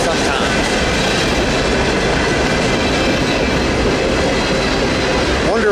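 A Norfolk Southern manifest freight train with SD70 and Dash 9 locomotives rolls past in the Run 8 train simulator game, a loud, steady rumble of wheels and clattering railcars with a brief squeal near the end.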